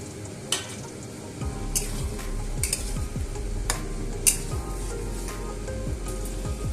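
Salted cauliflower fries in a pan with a steady crackling sizzle, broken by occasional scraping stirs and clinks of a spoon; close and fairly quiet, with no talk.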